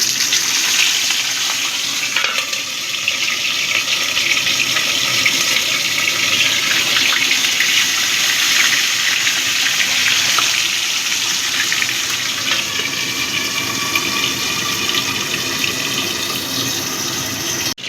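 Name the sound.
katla fish pieces frying in hot oil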